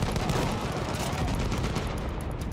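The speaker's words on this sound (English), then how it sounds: "Machine gun, let's tear it apart!" Machine gun in the Battlefield 1 single-player campaign firing a dense, continuous burst of rapid shots, loud and close, with heavy booming fill throughout.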